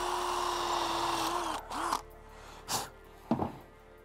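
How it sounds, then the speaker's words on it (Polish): A drill spins freely with a steady whir for about a second and a half, then winds down, followed by a few scraping knocks. "puszczamy sobie luzem wiertło, niech tylko nam wyciągnie po prostu cały kurz i pył"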